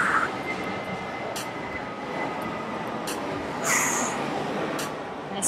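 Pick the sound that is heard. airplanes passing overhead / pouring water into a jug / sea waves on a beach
airplanes passing overhead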